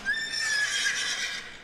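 A pony at a magazine photoshoot gives one clear, fairly close whinny that rises and trembles briefly, with no talk over it.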